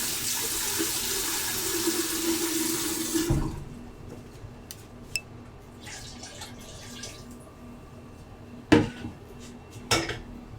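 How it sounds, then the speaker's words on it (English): Water pours steadily into a pot of roasted tomato sauce for a few seconds, then stops, followed by quiet kitchen sounds and a couple of sharp clinks of cookware. "Add a bit more water to our tomato sauce again."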